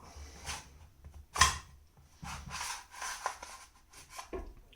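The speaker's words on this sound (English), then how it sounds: "And then I should first charge the bolt." The bolt of a VFC MP7 gas blowback airsoft gun being charged, heard as a handful of close, short mechanical rubs and one sharp metallic click amid quiet handling noise.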